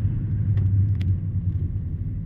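A car drives along an old, once-asphalted town road, giving a low, steady rumble of engine and tyres with a couple of faint knocks from the cabin.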